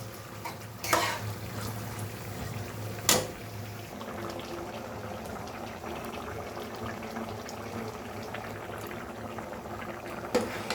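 Fish head curry with chili paste, salt, turmeric and cumin bubbles and sizzles softly in a pan, a quiet, steady simmer with a couple of brief clinks, close by and without talk.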